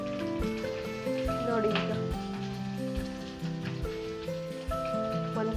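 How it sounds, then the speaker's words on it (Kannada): Pomfret fish frying on a tava with a few spoons of oil over medium flame, a steady close sizzle running throughout beneath a brief spoken remark. "ನಿಧಾನಕ್ಕೆ ಹುಷಾರಾಗಿ ನೆಕ್ಸ್ಟ್ ಫ್ರೈ ಮಾಡ್ಕೋಬೇಕಾದ್ರೆ ಸ್ವಲ್ಪ ಮೀಡಿಯಮ್ ಫ್ಲೇಮ್ ಇಟ್ಕೊಂಡು ಈಗ ಫ್ರೈ ಮಾಡಿ"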